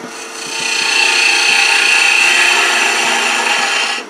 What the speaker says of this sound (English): Now we're going to shape this taper.